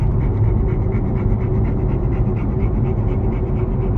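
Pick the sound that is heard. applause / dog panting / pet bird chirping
dog panting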